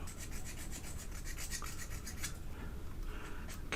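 Small tool rubbing and filing burrs off a metal clip on an old German electrostatic radio speaker, a steady close scraping rasp with rhythmic strokes throughout, no talking.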